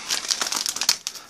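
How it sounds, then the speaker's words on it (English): A tough British military MRE breakfast packet is torn open by hand, giving a rapid crinkling, crackling plastic rip of about a second, close and fairly loud, with no talking. "It ripped under. But they are very, very tough, these packets."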